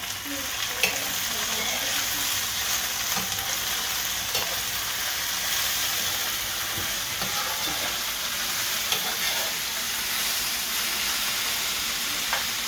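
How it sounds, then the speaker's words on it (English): Okra frying in a pot, seasoned with salt, sizzling with a steady loud hiss while a spoon stirs through it, occasional scrapes and pops over the continuous crackle, with no talking. "I'm going to stir this up."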